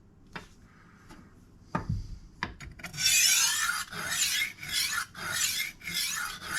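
A knife blade rasping against a HORL or Tumbler rolling sharpener's honing disc, beginning with a few faint clicks and knocks, then a run of loud, close scraping strokes in quick rhythmic succession.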